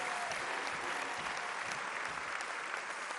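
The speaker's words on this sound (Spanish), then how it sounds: "A ellos nuestro reconocimiento y el aplauso fuerte." Crowd applause for the Tren Maya railway workers at the inauguration of its final sections in Mexico, a steady, dense clapping that holds at full strength throughout with no talk over it.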